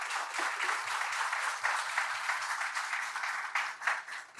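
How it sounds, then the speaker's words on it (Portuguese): Audience giving a round of applause at a talk session, continuous close clapping from a group that swells and flutters unevenly before easing slightly at the end. "uma salva de palmas para vocês"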